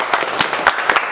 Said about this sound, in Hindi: एक बार जोरदार तालियां दे